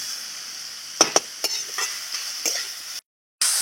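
Soft frying sizzle of beans in a pan with a few sharp scraping stirs, ending in a brief moment of silence before the sizzle returns.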